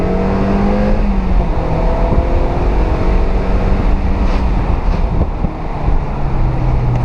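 A Mazda MX-5 NC drives on a damp road and downshifts. The engine drones loudly and steadily, with pitch shifts as the revs change, under constant wind and road roar and with no voices.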